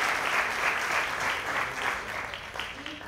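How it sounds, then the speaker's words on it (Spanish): A dense, steady round of applause fills a convention-center meeting hall for women, the clapping crowd sustained and even throughout without any voice on top. "quiero un fuerte aplauso para esas mujeres y para esas personas que un día dijeron sí a esta oportunidad"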